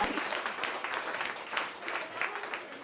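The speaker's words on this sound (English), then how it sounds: "let us give our panelists another round of applause" An audience at a sustainability forum applauds its panelists, a steady wash of many hands clapping at moderate distance, sustained for the whole few seconds.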